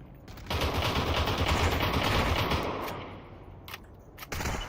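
Sustained automatic gunfire from two teams fighting in the VR shooter Population: One, a dense rattling burst running for several seconds, then tapering off before another short burst at the end.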